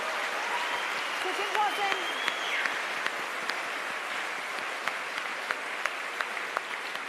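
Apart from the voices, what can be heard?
audience applause at art auction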